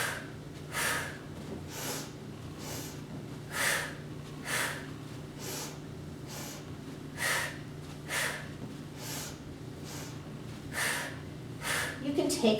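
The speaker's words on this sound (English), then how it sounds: "You can take percussive breathing with this, taking a quick inhale, inhale, exhale, exhale." Quick, forceful breaths during a supine stability ball workout, about a dozen sharp inhale and exhale bursts in a steady rhythm, close and moderately loud over a low background hum.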